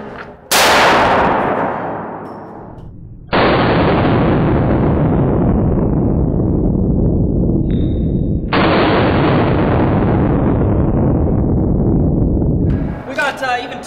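Gunfire at a Las Vegas shooting range: a sharp, very loud blast, then two long stretches of heavy, roaring fire, each starting abruptly and ringing at full volume before cutting off.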